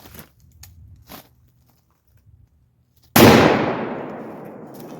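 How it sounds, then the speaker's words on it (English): A Taurus Raging Judge Magnum revolver chambered for .454 Casull fires once, single action, into a rim: one sudden, very loud close blast with a long decaying tail after a quiet lead-in. "I'm going to shoot this single action into that rim"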